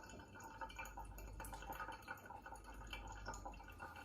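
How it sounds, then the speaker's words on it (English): Water trickles and drips steadily through coffee grounds in a funnel into a flask, a continuous close, wet pouring sound with small splashes and no talking. "you can hear it filters through relatively quickly"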